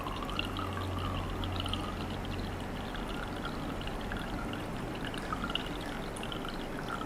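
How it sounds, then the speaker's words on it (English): Evaporated milk poured into condensed milk for iced coffee, a soft steady stream of liquid trickling into a container, faint and close with no talk. "I'm going to put the same amount, an equal amount of my evaporated milk, so bringing it up to 200 milliliters."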